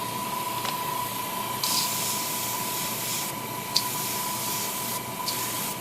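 A continuous soft hiss of liquid mixture being sprayed onto an HG Uraven Gundam plastic model kit, with brief louder bursts and faint clicks, steady and fairly quiet throughout.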